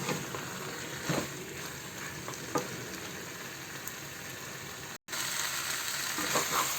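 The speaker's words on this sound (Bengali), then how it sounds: "পটলটা একটু ভালোভাবে মাংসের সাথে কষিয়ে নেব" Fried potato and pointed gourd sizzle steadily as they are sautéed with meat in a hot pan, with a few stirring scrapes and a very brief break near the end.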